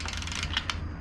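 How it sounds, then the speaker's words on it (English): A hand ratchet torques down a bolt on a Honda Ruckus scooter during a 150cc GY6 engine swap, giving a dense run of quick clicking that holds steady, with two sharper clicks near the end, close by and with no voices. "I'll just torque that down a little bit."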